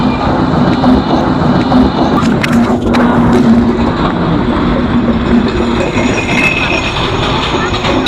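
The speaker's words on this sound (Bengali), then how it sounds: "ঢাকা থেকে ছেড়ে আসা আন্তনগর নীলসাগর এক্সপ্রেস 73 এই মাত্র নাটোর রেলওয়ে স্টেশনের 2 নম্বর প্ল্যাটফর্মে।" The Nilsagar Express intercity train arrives at Natore railway station, with a loud steady rumble of wagons, wheel squeal and rail clatter close by, and voices faintly underneath.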